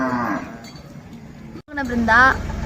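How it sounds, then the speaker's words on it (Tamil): A cow moos loudly in a village grazing area, with one drawn-out call near the start and another stronger call about two seconds in, while people talk nearby. "மாடு அப்படியே கத்தினே கிடக்குது"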